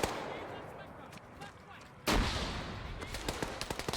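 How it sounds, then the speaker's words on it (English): Video game combat with grenades and gunfire: a constant rumble of distant firing, then a sudden loud blast at about the midpoint followed by sharp scattered shots, with a voice faintly present. "They're throwing grenades now."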